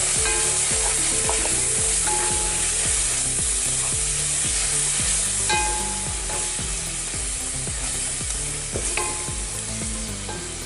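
Ginger garlic paste is stirred in a pan for a meatless biryani. A spoon scrapes in a quick, regular rhythm over a constant close sizzle of frying.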